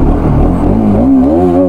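A Bajaj Pulsar RS200 motorcycle launches in a drag race, its engine revving loud and close, the pitch climbing steadily through the final second.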